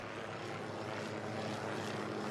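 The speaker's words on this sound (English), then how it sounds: "There are some military choppers flying above us right now." Military helicopters passing overhead, a steady broadband rotor and engine roar that stays loud and continuous throughout without breaks.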